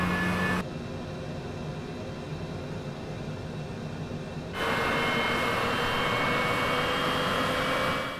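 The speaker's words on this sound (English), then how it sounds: "how good does the TJ100 turbojet engine sound? And let's take a listen to it." A TJ100 turbojet engine on a YSIM JSX2 aircraft in a flight simulator game, heard as a steady, loud jet roar and whine that holds constant, then jumps louder and brighter about halfway through as the engine spools up.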